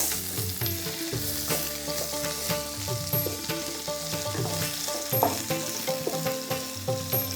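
Vegetables for a gravy of avarekaalu, chayote and tomato sizzle steadily in a hot pan, a loud continuous frying hiss with occasional stirring clatter.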